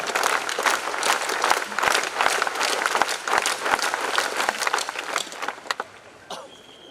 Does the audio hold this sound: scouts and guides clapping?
yes